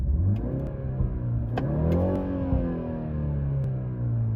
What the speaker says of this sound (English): BMW had to pump in extra fake noise inside the cabin to enhance the driving experience.